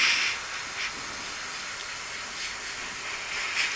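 An airbrush sprays khaki brown paint at low air pressure, making a steady close hiss that holds evenly throughout with only slight swells.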